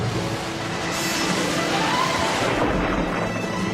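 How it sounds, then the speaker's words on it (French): Thunderstorm with a sustained, loud wash of broadband noise and deep low rumbling, like storm wind and thunder, continuous throughout with no speech. "L'orage empire!"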